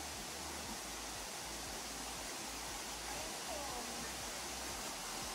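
Creek water flows steadily along the Cream Track hiking trail between Tallebudgera and the Springbrook plateau, a continuous close rushing hiss with no breaks.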